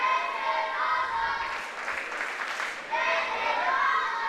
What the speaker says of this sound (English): And you hear the crowd here in Fuquay Arena.